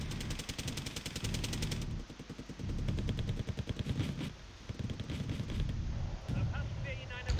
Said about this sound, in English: you see the mortar spam on the fob